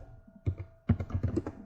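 Someone types a prompt on a computer keyboard. A few quiet keystrokes are followed after a brief pause by a quicker run of close clicks and taps, with no talking.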